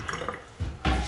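Hot water gushes from a stainless steel kitchen sink tap under very high building water pressure, only partly opened, a close, steady rushing splash that swells louder in brief surges.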